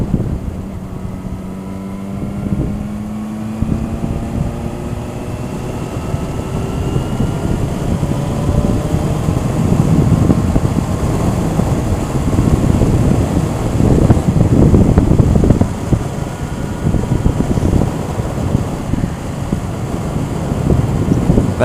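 A 2007 Yamaha FZ6, a 600cc liquid-cooled inline-four with a six-speed transmission, is ridden on the road, its engine droning with rising and falling pitch through gear changes under heavy, steady wind rush.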